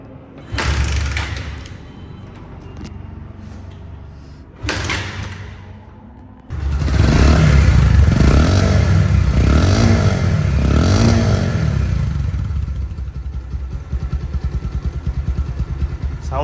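A second-hand Bajaj Pulsar motorcycle in a showroom clatters through a couple of short starts, then settles into a loud, sustained engine note that rises and falls with revving.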